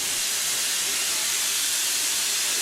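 Stanier Coronation class steam locomotive 6233 Duchess of Sutherland restarting at Carlisle in 2002, heard as a loud, continuous roaring hiss of steam that fills the whole clip without individual chuffs standing out.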